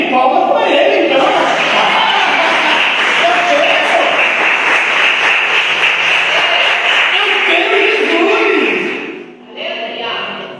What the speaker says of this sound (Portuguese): Palmas para ele, então